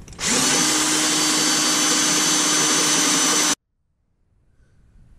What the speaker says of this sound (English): Okay, so the hole is drilled